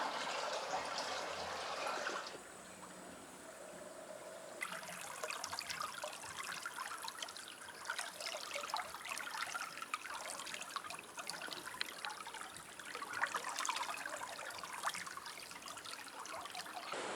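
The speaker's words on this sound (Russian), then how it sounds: "Вода журчит, где-то там родничок, по ходу дела." A small spring in rocky countryside trickles steadily, a soft continuous babble of running water with a constant gentle wash and no voices.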